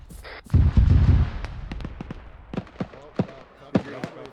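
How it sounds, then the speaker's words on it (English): Artillery battery shelling in the military shooter ArmA 3: a burst of heavy low booms at the start, then a string of sharp distant impacts and cracks spaced irregularly, with voices talking over them. "That battery's still hitting right where we came from."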